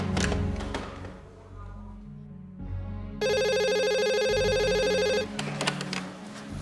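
An indoor home telephone rings with a steady electronic trilling tone lasting about two seconds. Brief thumps and low room sounds come before it, and some faint talk follows.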